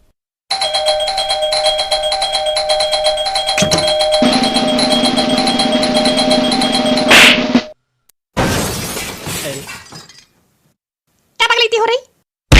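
A doorbell chimes repeatedly for several seconds, then cuts off; brief bursts of other noise and a short voice follow after pauses of silence.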